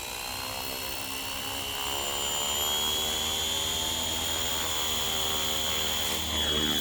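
A Flywing model helicopter spins up for takeoff, its rotor and motor whining loud and close in a steady, slightly rising drone with a high-pitched tone on top and no talking.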